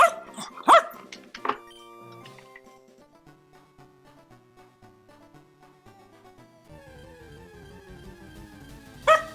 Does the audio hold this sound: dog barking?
yes